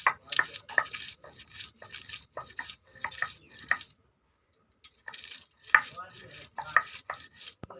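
Ginger, garlic and chili are ground into a paste by hand, producing rhythmic, wet, rasping strokes close up, with one brief pause partway through and no voices.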